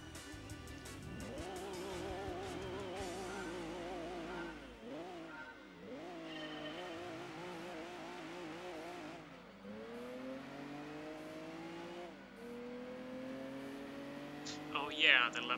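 A Lamborghini Miura's engine in Gran Turismo 2 revs and climbs through gears, a buzzing harmonic drone rising and dropping repeatedly with shifts, sustained and fairly close, with tire squeal near the end.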